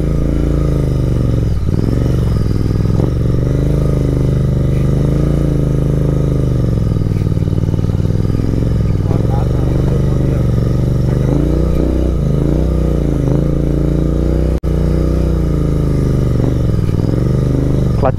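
Royal Enfield Interceptor 650 and Triumph Speed 400 motorcycles grinding through extreme off-road terrain, their engines droning steadily with repeated revs and low rumbling throughout, loud and close with occasional clatter.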